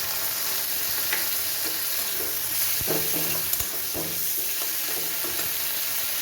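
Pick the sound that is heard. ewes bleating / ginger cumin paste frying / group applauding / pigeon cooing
ginger cumin paste frying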